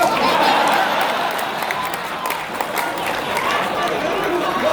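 A comedy show audience claps and cheers with scattered laughter, a lively mix of hands and voices that stays loud and busy throughout.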